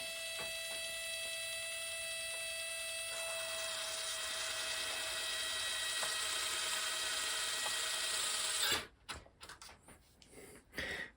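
A small high-pitched drill whines steadily for several seconds while boring through a ship model part, then stops and sputters in short bursts as it stalls.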